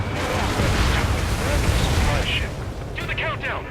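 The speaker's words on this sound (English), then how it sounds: "An explosion!" Explosions rumble and crackle in the jet combat video game Ace Combat 7, a sustained booming roar under overlapping radio-style voices, with sharper cracks toward the end.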